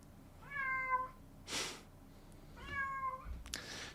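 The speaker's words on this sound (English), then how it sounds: "that's my cat making noises." A house cat meows twice, each call a drawn-out, close and fairly quiet cry, with a short breathy noise after each one in an otherwise quiet indoor room.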